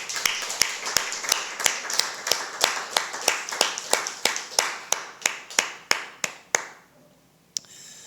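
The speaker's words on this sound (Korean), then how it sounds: "우리 산위회 교회 가장들에게 우리 뜨겁게 박수 한번 치면 좋겠습니다" A church congregation gives a round of clapping for the heads of households during a Sunday service: about twenty distinct sharp claps in a steady, fairly quick rhythm, close and clear, stopping abruptly, followed by near silence and one last lone clap.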